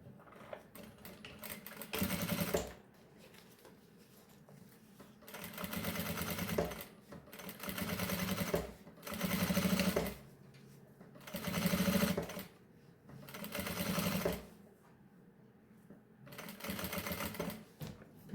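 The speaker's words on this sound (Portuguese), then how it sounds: "passo uma costura mais próxima aos dentinhos do zíper" A sewing machine stitches a seam close to zipper teeth on a baby pouch, running in several bursts of rapid, even whirring a couple of seconds each, separated by quiet pauses.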